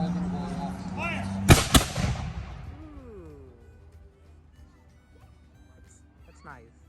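Black powder guns fire a volley at a historic village, two sharp loud blasts close together followed by a rolling decaying rumble, with people talking before and faintly after.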